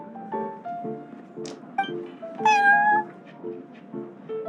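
A cat in the Cat's Tail tavern in Genshin Impact meows repeatedly, a string of short, close, clear meows with one longer, higher call in the middle, alone with no talk.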